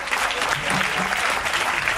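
Concert audience at the Magic Mirrors venue applauds a live band, a dense, even wash of clapping throughout without a break.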